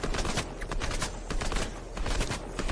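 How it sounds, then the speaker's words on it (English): Rapid gunfire in the video game Fortnite, dense overlapping shots in a continuous loud barrage with no pauses. "They're just shooting down everything."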